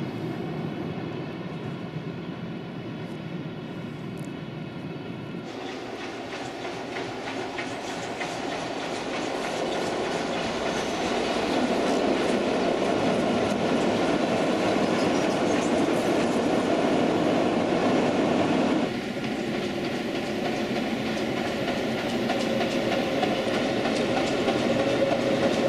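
A train runs on Slovenia's Wocheiner railway, the 1906 line that formed part of the Vienna–Trieste connection. A steady, close rolling roar with continuous clickety-clack grows slightly louder partway through and carries on without a break.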